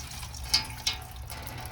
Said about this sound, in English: It's splashing a little bit.